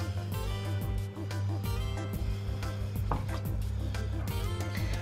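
A knife chops ingredients for sea bream cooked in a fish frying pan, with steady, close knocks on a board and a faint kitchen hum beneath.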